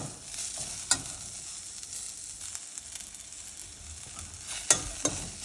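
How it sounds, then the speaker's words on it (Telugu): Ivy gourd frying with spice powders in an oiled pan, a steady bright sizzle with a few sharp scrapes of the spoon, close and without speech. "దీన్ని ఇప్పుడు బాగా ఫ్రై చేద్దాం"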